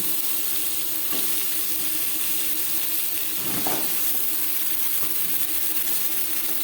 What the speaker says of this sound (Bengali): পটল আলুর সাথে বেশ ভালো করে মিক্স করে দেবো এক দু মিনিট নাড়াচাড়া করে নেওয়ার পর দিয়ে দেবো পটল